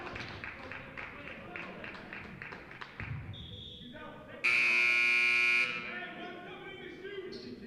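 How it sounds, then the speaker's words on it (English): A loud, harsh electronic buzzer ends a period of a high school boys' basketball game, blaring for about a second amid crowd noise and a commentator's voice, then the arena chatter continues. "The buzzer sounds."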